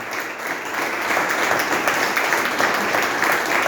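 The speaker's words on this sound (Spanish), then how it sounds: "para fuerte ese aplauso al Señor" Church congregation applauding during a Spanish-language sermon, a steady dense wash of clapping hands that holds loud and even for the whole stretch.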